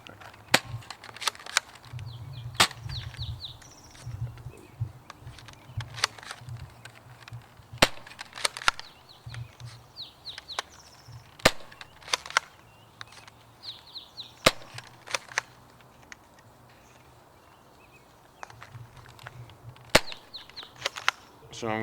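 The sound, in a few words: Nerf Sidestrike blaster shooting zombie strike darts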